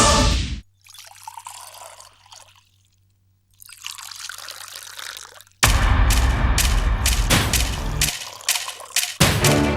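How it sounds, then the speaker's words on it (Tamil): Hot water poured back and forth between vessels to cool it, splashing and trickling in bursts with short gaps, close and fairly loud, ending in a dense stream of pouring. "அதுக்காக தான் சுடு தண்ணி ஆத்திட்டு இருக்கேன்"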